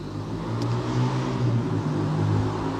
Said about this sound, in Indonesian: ada bunyi motor